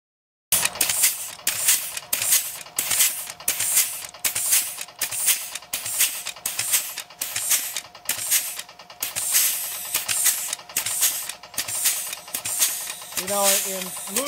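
An air-powered hoe chatters steadily into soil, a rapid pulsing hiss with regular bursts of pneumatic hammering running nearly the whole time, close and loud, with a brief voice near the end.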